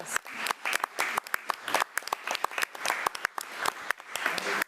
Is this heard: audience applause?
yes